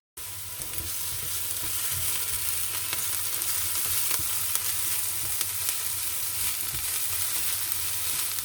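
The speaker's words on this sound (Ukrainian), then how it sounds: "Потім цибульку піджарила" Constant sizzling and crackling of onions frying in a hot pan, steady and close, with a few soft clinks of stirring.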